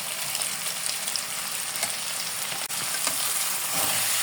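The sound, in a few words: stirring and frying pasta noodles with Maggi masala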